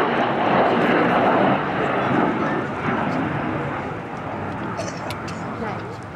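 A Hawker Hunter Mk58a jet flies at an air festival, a broad roaring rush that is loudest at first and slowly fades as it moves away, with a crowd and commentator speaking over it.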